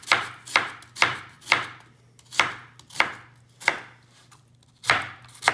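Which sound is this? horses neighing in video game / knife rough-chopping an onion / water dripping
knife rough-chopping an onion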